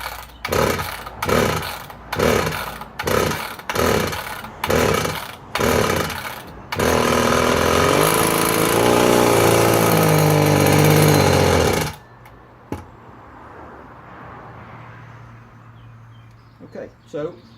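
Husqvarna 162 chainsaw engine sputtering in a series of rhythmic chugging bursts, then catching into a sustained loud, rough run that bogs and cuts out, leaving quieter clicks and handling noises.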